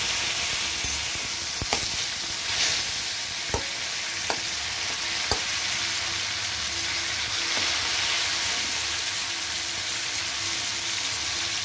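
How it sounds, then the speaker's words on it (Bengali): A boiled tomato goes into a pan of cumin frying in oil, giving a steady close sizzle broken by several sharp clicks and scrapes of a spatula against the pan, with no talking. "এবার আমি একটা সেদ্ধ করা টমেটো দিয়ে দেব।"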